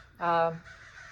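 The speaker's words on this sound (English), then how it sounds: "I don't know what these birds are that makes this noise, but we have a lot of them." A single harsh, raspy bird call, like a crow's caw, rings out briefly and fairly close against a quiet background.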